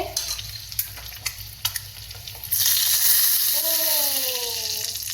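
An egg drops into hot oil and bursts into a loud, steady sizzle after a few soft kitchen clicks and taps, with the frying continuing strongly while a person speaks over it toward the end.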